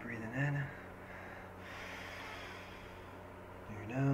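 A long, deep breath drawn in through the nose rushes steadily for several seconds, close and clear, with brief voiced sounds at the start and end.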